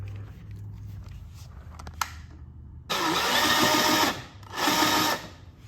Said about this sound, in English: Put it up here, drill a hole.